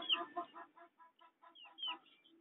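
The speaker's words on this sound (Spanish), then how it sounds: "aquí tenemos a un pollito" Soft, quick clucking chirps from a chick, close and quiet, in a broken rhythm of short calls.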